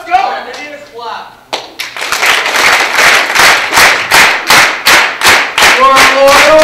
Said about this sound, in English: I need a clap.